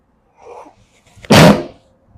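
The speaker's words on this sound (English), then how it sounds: "feel a sneeze coming on" A single sharp human sneeze at close range, preceded by a soft intake of breath, in a quiet indoor room at a meal.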